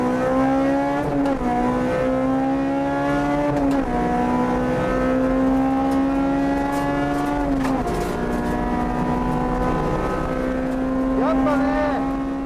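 Steady, loud engine drone of a Honda Type R accelerating on the road, climbing in pitch through each gear and dropping briefly at the shifts around every four seconds, with faint wind and road noise underneath.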